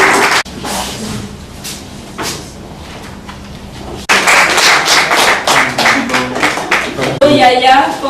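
An audience at a village ceremony claps in scattered bursts, with sparse claps at first and then louder, denser clapping, while someone speaks over it in French.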